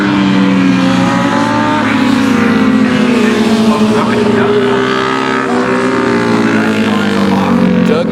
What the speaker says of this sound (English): You can hear him hard on the brakes, downshifting 3 times, flipping it in.